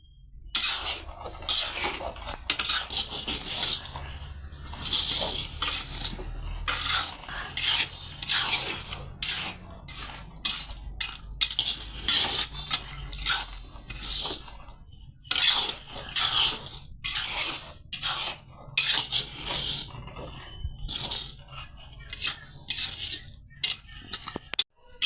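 Roasted salted peanuts are scraped and lifted out of a pan at home, giving repeated dry rasping, rattling scrapes in irregular bursts, fairly close and clear with no voices.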